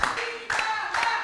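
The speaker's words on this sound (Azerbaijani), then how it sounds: "alqışlayaq" Audience applause at a studio entertainment show: dense, steady clapping that swells in three quick waves over about a second, fairly loud and with no voices over it.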